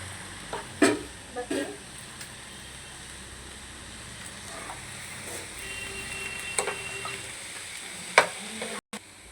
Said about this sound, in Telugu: ఇప్పుడు ఇందులో వేస్తున్నా క్యాబేజీ